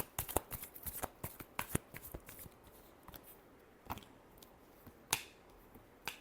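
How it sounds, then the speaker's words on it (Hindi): Tarot cards being shuffled during a Libra horoscope reading: a run of crisp, papery riffles and snaps, clustered early and then sparser, close and fairly quiet with no talking. "Last shuffle."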